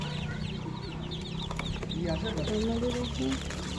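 A batch of young tiger-breed chicks peeps and clucks steadily at close range, with a low voice murmuring underneath.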